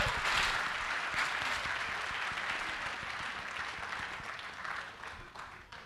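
Audience applause at a poetry recital by a comedic poet, a crowd clapping densely then gradually thinning and fading out.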